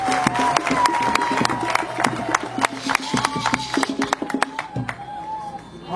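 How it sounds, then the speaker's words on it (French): An audience claps and cheers at a foundation-stone and signing ceremony for a cocoa processing plant in Douala, with sharp scattered claps over a steady crowd murmur and tonal voices throughout. "applaudissez un peu plus fort, ils sont là."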